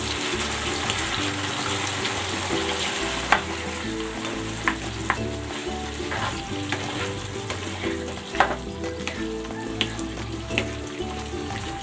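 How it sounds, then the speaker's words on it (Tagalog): Chicken feet and chayote simmer in coconut milk until the oil separates, giving a steady close sizzle and bubbling with scattered sharp pops and small clinks throughout. "lulutuin natin ito hanggang sa magmantika yung ating gata"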